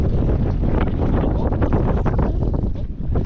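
Strong wind buffets a small boat, a loud continuous rush of gusts and microphone noise with no voices.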